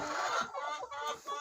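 Layer hens in a crowded poultry house, some just starting to lay, produce a dense, close chorus of overlapping clucks and squawks that fills the space continuously.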